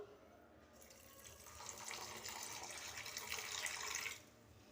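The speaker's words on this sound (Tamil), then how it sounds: "இப்போ இது மூழ்கிற அளவுக்கு தண்ணியை ஊற்றிக்குவோம்." Water poured from a vessel into a pan over jaggery while making peanut burfi, a steady close splashing rush lasting about three seconds before it stops.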